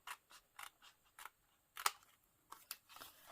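Scissors snip through a cardboard craft box in a series of crisp, quiet cuts, about a dozen short rasping snips at an uneven rhythm, close up with no talking.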